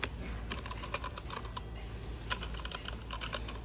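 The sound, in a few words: typing on mechanical keyboard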